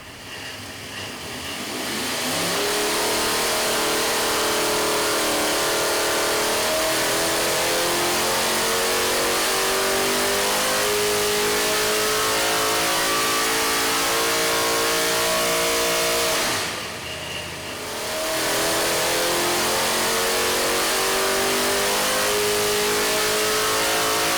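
A USMTS modified race engine on a dyno, fully advanced at 30 degrees before top dead center, pulls from 4,500 to 7,100 RPM with a loud, rising roar that holds steady, briefly dips near the end, then climbs again.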